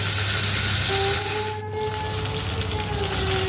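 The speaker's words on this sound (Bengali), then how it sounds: "এবার এর মধ্যে আদা পোস্তটা দিয়ে দিলাম দিয়ে এটা একটু ভালো করে কষবো" Ginger and poppy seed paste sizzles steadily in a hot pan during Bengali cauliflower cooking, a close, continuous crackling fry with a faint scrape of stirring partway through.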